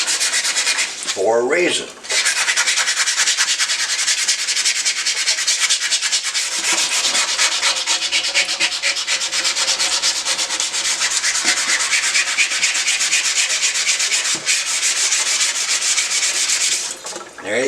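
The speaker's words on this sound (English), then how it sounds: "This is called wet or dry sandpaper" A rusty kitchen knife blade is rubbed with wet or dry sandpaper in long, steady, close scraping strokes, nearly continuous with brief pauses, and a short spoken phrase near the start.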